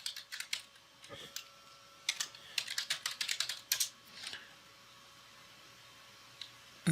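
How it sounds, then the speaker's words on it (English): Password being typed on a computer keyboard: quick, close clicking keystrokes in irregular bursts, busiest in the middle, with quiet gaps in between. "And Bob's going to enter his password"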